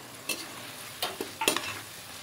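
Potatoes tipped into a pan of oil-releasing fried masala for a fish roe biryani, giving a few short scraping stirs and soft sizzling bursts, close by with quiet gaps between.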